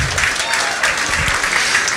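Steady applause from a seated audience at a lecture-style talk, a dense even patter of clapping holding level for the whole stretch with no voices over it.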